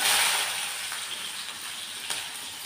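Onion dropped into hot oil with black cumin seeds in a home kitchen pan, a steady bright sizzle that starts loud and settles into a continuous frying hiss with small pops.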